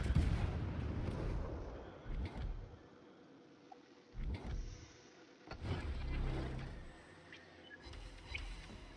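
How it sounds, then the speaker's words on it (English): Naval video game battle with heavy shell impacts thudding against a warship's broadside, several dull booming hits in irregular bursts over a low rumbling background. "Here comes some shells on Alf's broadside."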